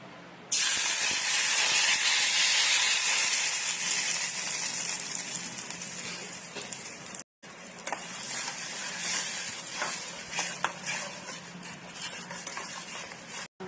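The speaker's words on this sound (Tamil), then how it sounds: "இதை நம்ம வந்து இந்த எண்ணெயில் சேர்த்து வதக்கிக்கலாம்." Loud, steady sizzling and hissing of chili, ginger and garlic paste frying in hot oil, continuous for several seconds with a brief break partway through.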